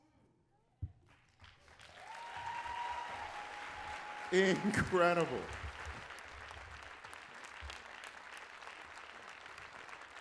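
Applause swells from the crowd at a Martin Luther King Jr. birthday celebration and continues at a moderate level, with a voice calling out briefly partway through.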